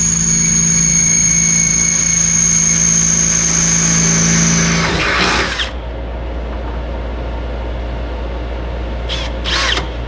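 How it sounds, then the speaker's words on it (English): A loud, steady high-pitched drill whine runs for about five seconds while drilling through sheet metal on a 2007 Silverado rocker panel, then cuts off abruptly, leaving a low hum and a couple of brief metallic squeaks. "why is he drilling all the way through?"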